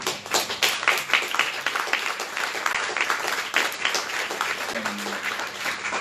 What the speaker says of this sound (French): Oui, vous pouvez applaudir, merci.